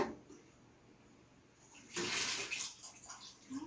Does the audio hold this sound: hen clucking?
no